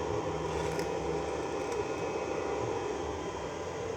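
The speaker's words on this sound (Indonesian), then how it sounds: "Nah, ada suara guys ya. Ini suara kipas sekalian menghidupkan inverter ini bekerja guys." The cooling fan of a 12 V to 220 V power inverter runs with a steady, broadband whirring hiss at even loudness for the whole stretch, with no talk.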